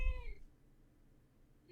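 A pet cat meows once, close and fairly loud, a short rising-falling call at the start, followed by quiet room hiss with a faint hint of another sound at the very end.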